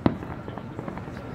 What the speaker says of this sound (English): We're closer to the fireworks, along with another display.